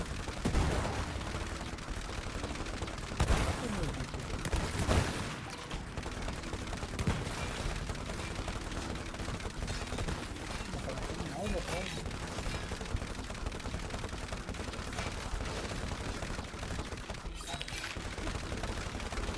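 Gunfire in the co-op video game It Takes Two, with repeated shots and bursts running through a dense game soundtrack while two players talk over it.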